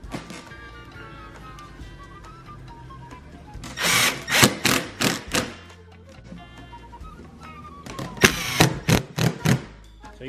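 Power drill driving screws into a PVC pipe snake rack, two bursts of loud whirring near the mic with short pulses of motor revving and stopping, separated by quieter workshop noise.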